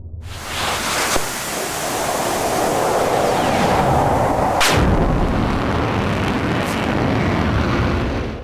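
Fighter jet cannon fire in a combat flight game, with an SU-27 Flanker and JAS-39 Gripen dogfighting, comes as a long roaring rush of gun and engine noise with a few sharp bangs.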